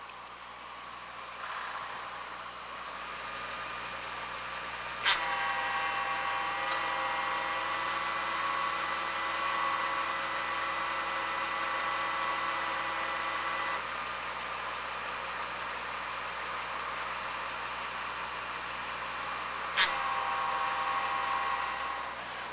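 A TSD450 fluid exchange machine runs with a steady, even mechanical hum and whine, and two sharp clicks sound about fifteen seconds apart.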